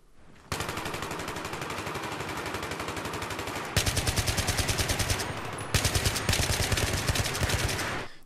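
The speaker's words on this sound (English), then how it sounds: "the AN-94 coupled with the burst fire mode and heavy barrel is quite lethal" AN-94 assault rifle with heavy barrel firing in burst mode in Battlefield 3: loud, rapid automatic gunfire in three sustained bursts separated by brief gaps, each a dense rattle of closely spaced shots.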